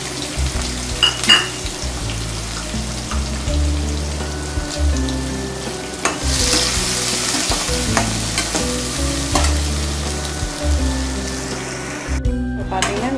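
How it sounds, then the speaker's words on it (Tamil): Chopped onions fry until golden in a pan, hissing in a loud, continuous sizzle with a low steady hum underneath and repeated clinks and scrapes of stirring, ending in a short burst of crackling. "இப்போது கட் பண்ணி வச்சுருக்க வெங்காயத்தை பொன்னிறமாக நல்லா வறுத்துக்கணும்"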